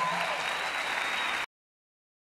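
Loud audience applause at the Anton Awards Ecuador 2019 ceremony, a dense wash of clapping for about a second and a half before cutting abruptly to silence.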